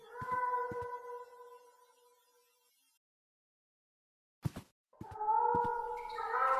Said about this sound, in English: The cat's meow is louder here.